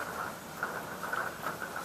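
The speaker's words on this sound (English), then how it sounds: "it's raining, and I'm outside" Steady rain falls outdoors in the early evening, a continuous soft wash of patter with no breaks and no voices, holding at a moderate, even level throughout.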